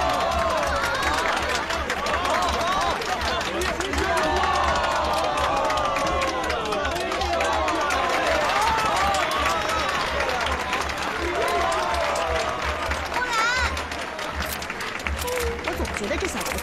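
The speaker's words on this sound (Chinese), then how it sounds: "掌声欢迎" At a Monte Carlo gala, a crowd applauds and cheers loudly. The dense, continuous clapping is mixed with shouts and excited voices throughout.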